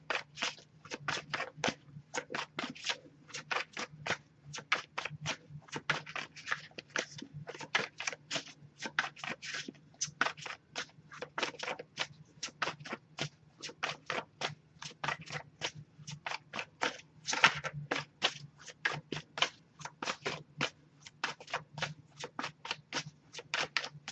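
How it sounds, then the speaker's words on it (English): An oracle card deck being shuffled by hand, giving a steady, rapid run of crisp card flicks and riffles close up for the whole stretch, with no talking. "if I shuffle for a while without anything coming up, I'll just move on to the next Oracle deck"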